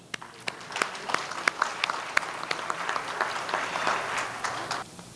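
An audience at an honoring ceremony in Toronto applauds steadily, scattered sharp claps rising out of a dense wash of clapping that holds for about five seconds before cutting off.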